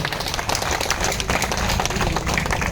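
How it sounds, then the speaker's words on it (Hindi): An audience at a kavi sammelan poets' gathering applauds to welcome the poets, a dense, steady wash of clapping filling the space without a break. "आप तालियां बजाकर स्वागत करें जरा।"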